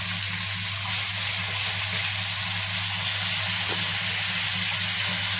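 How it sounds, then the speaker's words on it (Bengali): Cumin, bay leaves and dried chillies fry in hot oil, giving a steady, even sizzling hiss with a low background hum, continuous throughout and without talk. "জিরা, তেজপাতা, শুকনো লঙ্কা একটু ভেজে নেব"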